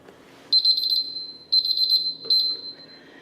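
Kitchen timer alarm going off while eggs boil for deviled eggs: three loud, shrill beeping bursts in quick succession, with a short pause between each and faint background noise.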